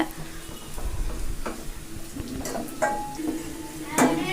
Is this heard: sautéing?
yes